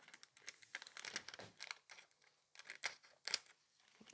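Scissors snip through a nail art transfer sheet in a run of quick, crisp cuts, close and fairly quiet, with light crinkling of the thin sheet between snips and no talking.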